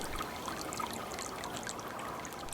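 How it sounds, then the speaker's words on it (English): A small creek, Big Hill Springs Creek, running and tinkling over stones in early winter, a steady close babble with bright splashy droplets scattered across it, moderately quiet and with no one talking. "I love the tinkling sound of running water"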